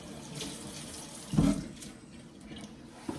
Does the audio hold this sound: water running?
yes